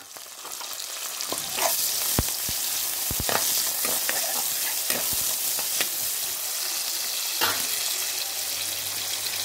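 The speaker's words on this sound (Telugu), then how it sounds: "తాలింపు వేగిపోతుంది." Tempering spices and onion fry in hot oil in a pan, giving a steady close sizzle with occasional sharp crackles and pops from stirring, no voices.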